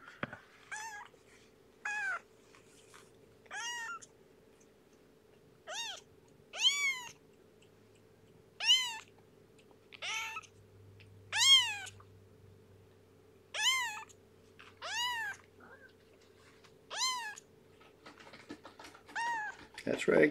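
Kitten meowing repeatedly in a steady series of clear, fairly close, high cries spaced about every second or two, with a faint low hum underneath.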